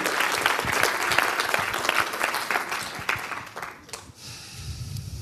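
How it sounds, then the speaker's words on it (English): A crowd applauds steadily for several seconds, dense clapping that thins out and fades near the end. "A big round of applause for the technical team here who set up everything"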